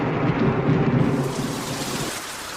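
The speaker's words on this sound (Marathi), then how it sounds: "पाऊस काय थांबायचं नाव घे नाही" Heavy rain pours steadily with a deep rumble of thunder rolling underneath, loud and continuous before easing slightly near the end.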